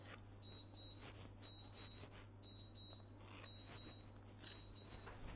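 A kitchen timer rings during Christmas cake (bûche de Noël) baking, a series of high electronic beeps in regular pairs and groups, repeating steadily over a low background hum.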